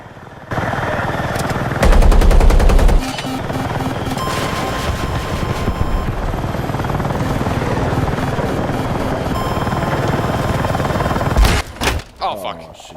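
Gunfire aimed at a tank in a video game: a loud, rapid burst of machine-gun shots lasting about a second, set over a constant, droning helicopter rotor that continues after the shooting stops.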